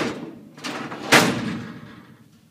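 Drawer pushed into a lateral filing cabinet during assembly, metal sliding and rattling with a louder thud midway, then a fading rumble, close by.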